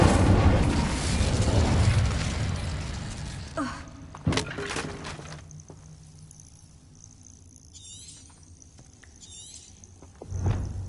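Fire spell cast in Hogwarts Legacy, a broad roaring whoosh and crackle that fades, followed by a sharp sudden burst, a few faint magical shimmers and a low thump near the end.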